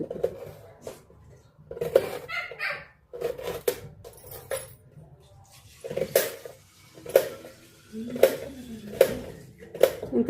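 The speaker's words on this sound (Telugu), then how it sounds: "చిన్న చిన్నగా కోయాలి చాలా చిన్న చిన్నగా కొయ్యాలి" A knife chops vegetables into small pieces on a board for sago (sabudana) khichdi, with sharp irregular knocks at first that settle into a steady run of close, crisp cuts, no voices.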